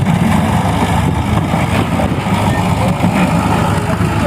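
Loud, steady tractor engine running close by, a dense unbroken low chugging rumble that holds for several seconds.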